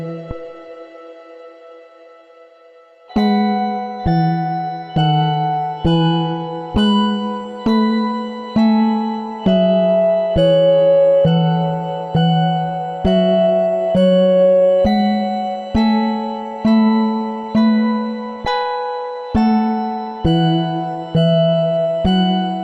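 Seismic recordings of the Earth translated into musical chords, a steady series of sustained synthesized chords struck one after another in a regular pulse, each swelling and decaying, with a deep bass root, loud and alone after a quiet opening.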